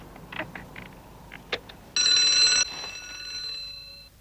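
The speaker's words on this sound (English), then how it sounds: "That sounded like the cable car alarm." A cable car's alarm bell rings loudly in a steady burst of about a second, preceded by a few faint clicks and followed by a fading electronic ringing tone.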